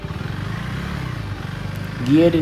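A dirt bike rides an off-road trail, its engine a steady droning hum under continuous talking, with a louder revving surge near the end.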